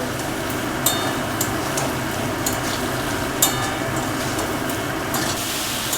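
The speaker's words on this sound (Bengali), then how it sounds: "হাই ফ্লেমে রেখে কিন্তু সবজিগুলো একটু নাড়াচাড়া করে নিতে হবে" Vegetables for chilli baby corn stir-fried over a high flame, with a steady broadband sizzle carrying throughout and a few faint scrapes or clinks of stirring on top. No voices are present.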